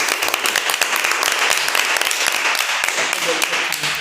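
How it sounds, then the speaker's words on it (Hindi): Students in a classroom clapping for a pupil who passed the Navodaya entrance exam, a dense, continuous round of applause lasting several seconds. "एक बार इनके लिए आप लोग ताली बजा के क्लैपिंग कर लीजिए।"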